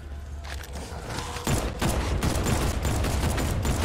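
Dense automatic gunfire from Batman: Arkham Knight, rapid bursts that intensify and run continuously near and loud over a mechanical game backdrop.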